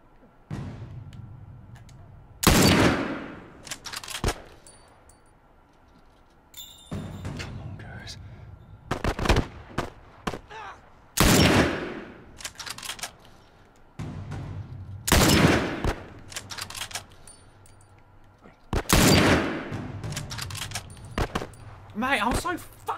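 Gunfire in The Last of Us, in the Suburbs area: sharp, loud shots come singly and in tight clusters, separated by quiet gaps, with a person talking in between.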